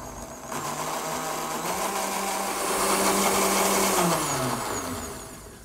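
A blender whirs as it purées blanched lettuce with egg whites, a steady motor whine that rises in pitch and loudness midway before slowing down at the end, heard alone without talk.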